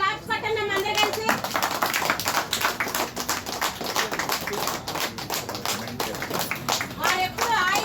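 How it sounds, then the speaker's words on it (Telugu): An audience claps together at a food and clothing distribution event at an old-age home in Vijayawada, a dense patter of hand claps running throughout with a voice speaking over it at the start and end. "మరి సారాలు అందరూ కూడా గట్టిగా క్లాప్స్ పట్టండి అందరూ కలిసి"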